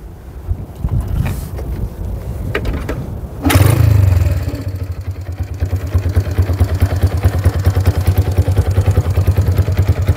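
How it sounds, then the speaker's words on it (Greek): A Yamaha Townmate motorcycle with a 51 mm cylinder and 80 mm stroke starts up after about three seconds of wind-buffeted handling, then idles steadily with a loud, close, deep bass thrum and rapid even pulses. "Τζόνι, για βάλτε το λίγο μπροστά να το ακούσουμε και όλο στο μηχανάκι."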